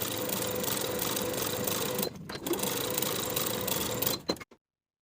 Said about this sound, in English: Top stitch the curved pocket opening with a 1/4 inch seam allowance.